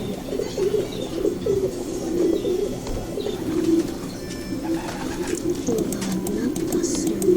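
A pigeon coos steadily in a low, throaty warble, nearby and continuous over several seconds, with faint background noise and a voice speaking softly over it.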